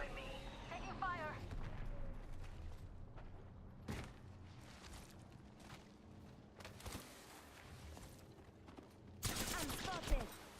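Video game gunfire, bursts of shots and rattling volleys mixed with explosions and game noise, fairly quiet in the mix, loudest in a dense burst near the end.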